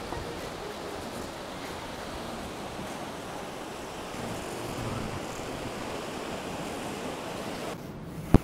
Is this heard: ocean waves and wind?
yes